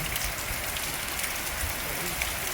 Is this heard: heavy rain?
yes